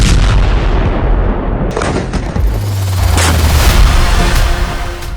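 Heavy booming blasts, like loud explosions or artillery, rolling and rumbling one after another with dense low-end roar throughout.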